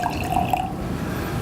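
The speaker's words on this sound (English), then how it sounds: "So we're going to pour 2 wines," Wine being poured into glasses, a brief trickling liquid stream with light glassy ringing tones at the start, fading to quiet room noise.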